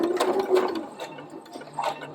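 A sewing machine runs a short backstitch on a Peter Pan collar, a close, quick mechanical whirr in brief bursts that pauses and starts again, with no one talking.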